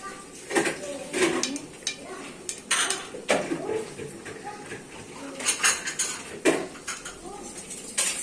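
Dishes clatter and clink in a home kitchen during washing, with scattered knocks of pots and cutlery at an uneven rhythm, close and moderately loud, while voices talk in the background.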